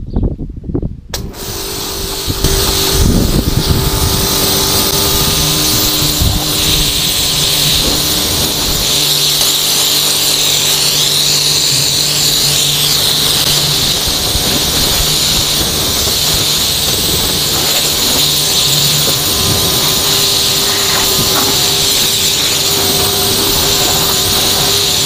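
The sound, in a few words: rinsing a car with water spray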